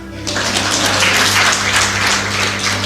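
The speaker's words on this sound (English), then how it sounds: "Clap for her." Audience clapping at a talk on wealth building and mindset, a steady broadband patter over a low constant hum that runs the full length at moderate loudness.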